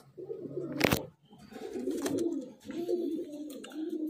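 Domestic pigeons of high-flying breeds such as Kalshira, Teddy and Murshidabadi Giribaz coo softly nearby in a few repeated throaty phrases, with one short sharp knock early on.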